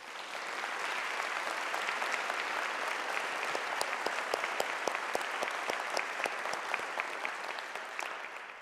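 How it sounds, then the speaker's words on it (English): Steady applause from an audience at a public lecture event, broad dense clapping throughout with sharper individual claps standing out in the middle, moderately distant. "I think that deserves a round of applause."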